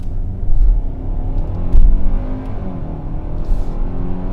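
A KIA K5's engine growls and revs loudly up close, with a deep rumble that swells twice before settling into a steady roar.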